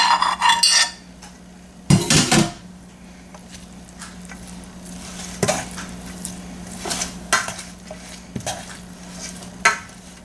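Spoon scraping and clinking in a bowl as cooked rice is scooped into a stuffed pepper mixture, a few sharp metallic scrapes and soft thuds spaced out over a quiet background hum.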